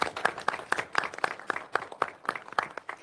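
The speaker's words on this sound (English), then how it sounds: "How about a big round of applause?" Applause from a small group at a committee meeting, irregular claps packed close together and fairly near, with no voices over it.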